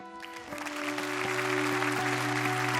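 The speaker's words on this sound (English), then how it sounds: "Big round of applause for the Japanese factory." Applause rises at the 2018 FIM MotoGP Awards ceremony as Honda takes the Moto3 constructor award. Scattered claps build into steady clapping over a sustained musical tone, moderately loud, with no speech.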